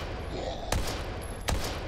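Two sharp gunshots fired at a zombie in the video game Daymare 1998, evenly spaced about a second apart over a steady low game ambience, close and fairly loud.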